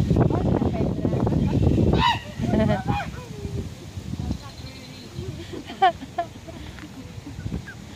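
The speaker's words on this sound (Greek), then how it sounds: "Η επίθεση της χήνας." Geese honking loudly and close during a goose attack, with a cluster of harsh calls early and scattered honks later, mixed with outdoor commotion and people talking.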